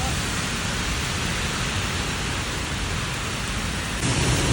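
Steady rain hisses continuously, close and fairly loud, a dense wash of falling water that swells slightly at the end.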